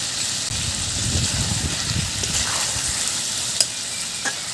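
Tomato sauce being stirred into chicken kosha frying in a pan: a steady, close sizzle with soft scraping strokes and a sharp clink near the end.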